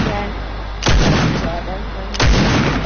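Two loud, sharp gunshots from a shooter video game, about a second and a half apart, ringing out close over a steady game background.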